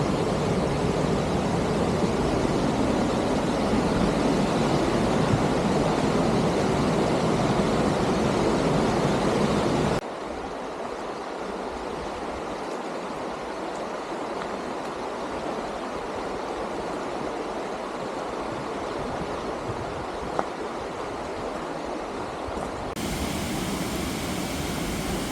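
A waterfall in a river valley in the Brecon Beacons gives a steady, broadband rush of falling water, loud and close at first, then softer after a cut, before returning louder near the end.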